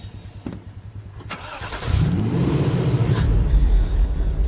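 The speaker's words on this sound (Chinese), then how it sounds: "这发动机好像不对。" A fishing boat's engine, tampered with by sand and seawater poured into it, turns over and settles into a loud, close, continuous low rumble.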